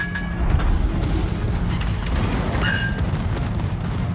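Naval guns fire in the World of Warships video game: dull, booming salvos and rumbling blasts roll over a dense background of battle noise, with no talk.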